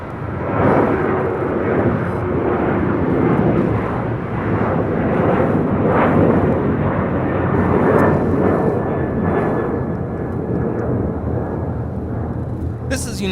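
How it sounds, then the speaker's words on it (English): A United Airlines Boeing 737-900ER takes off at LAX on its way to Denver, giving a sustained, loud jet engine roar that swells and eases with wind rumble throughout. "1821 taking off to Denver on a 737-900 ER"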